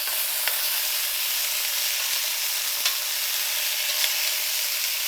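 Steady bright sizzling from a hot pan of glazed Brussels sprouts as cranberries go in, a continuous frying hiss with a few faint clicks and pops and no voices.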